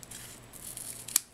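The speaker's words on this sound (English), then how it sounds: "Now I cut the acetate out at 3 3/4 by 3 3/4" Scissors snip through a thin acetate sheet up close, producing soft crisp cutting sounds that build to a sharp final snip near the end, with no talking.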